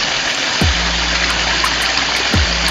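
Spring water pours steadily from an improvised PVC pipe at a rural drinking-water source, a loud continuous broadband rush with two brief low thumps, no talking.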